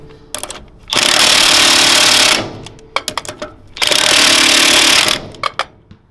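An impact wrench torquing down the wheel nuts on a trailer hub, two loud sustained bursts of hammering whir, each preceded and followed by short clicks and taps.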